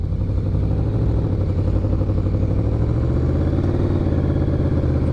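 Restored Yamaha Vmax muscle motorcycle engine heard while riding, a loud, continuous throbbing drone with rough mechanical pulsing and wind, steady throughout with no talking.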